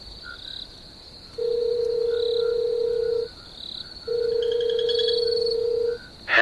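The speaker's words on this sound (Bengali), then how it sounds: "অমিতকে একটা ফোন করি।" In a Bengali ghost cartoon, a phone call rings out on the line: two long, steady electronic ring tones separated by a pause, clear and alone over faint background hiss, ending as the call connects.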